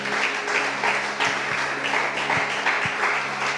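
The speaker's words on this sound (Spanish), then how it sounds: "Dele un aplauso a nuestro Dios." Congregation applauding in a church service, a steady wash of clapping hands that carries on throughout, with faint tonal hum and a few low thumps beneath it.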